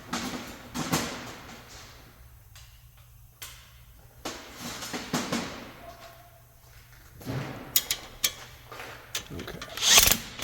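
A ratchet tightens a ball joint nut on a car's suspension in several short bursts of clicking, separated by pauses, with occasional thuds and handling noises nearby.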